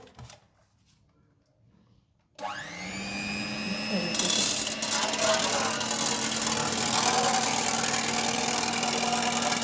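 Four eggs are beaten for a fluffy omelette. After a quiet start, a steady motorized whirring begins, growing louder and busier partway through and running on evenly at close range.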